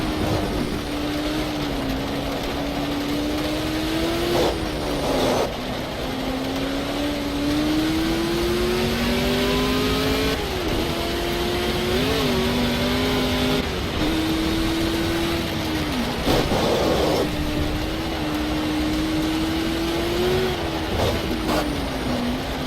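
A Ford GT40-style race car engine in a racing video game drones and revs continuously, its pitch rising through the gears and dropping sharply at each shift, loud and steady throughout.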